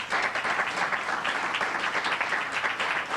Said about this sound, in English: just give a little round of applause